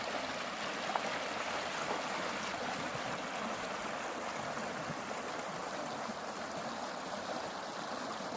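Small rapids in a swamp stream rushing over rocks, a steady, full-bodied water roar with gentle gurgling that holds constant throughout, fairly close and with no voices.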